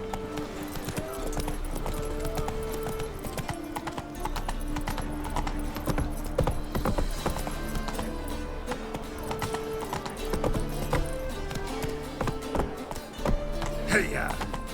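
A horse in The Witcher 3: Wild Hunt gallops with steady, rhythmic clip-clop hoofbeats throughout, close and clear, with a brief whinny near the end and a voice speaking over it.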